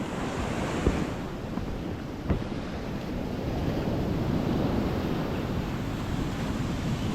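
Rough sea waves surge up the shore toward a house in a constant, heavy roar, with gusting wind buffeting the microphone and no voices.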